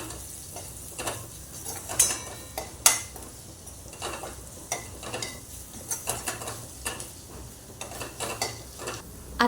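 A spice tempering of turmeric, coriander-cumin powder, Malvani masala and garam masala sautéed in a pan for Konkani-style jackfruit bhaji: a low hiss under frequent sharp spoon clinks and scrapes against the pan.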